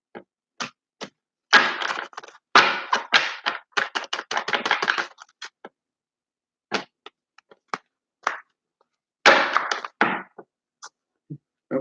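A deck of tarot cards being shuffled by hand, heard as bursts of quick riffling and sharp taps separated by short silences, close and fairly loud, with no speech.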